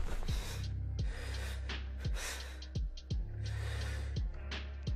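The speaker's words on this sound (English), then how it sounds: "there's a heavy breathing" Heavy breathing in the Missed Messages video game: slow, loud, close inhales and exhales repeating in a steady rhythm, alone without talk.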